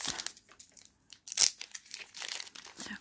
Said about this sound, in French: on va ouvrir le deuxième booster